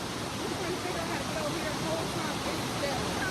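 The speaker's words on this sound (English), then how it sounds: "We're at the waterfall" A waterfall roars as a constant broad rushing wash of water, loud and unbroken, with voices faintly talking under it.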